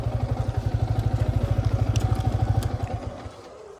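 A Yamaha R15 motorcycle idles with a steady, rapid low engine thump and some clatter, close by, while being parked at home, then the rhythm loosens and fades near the end.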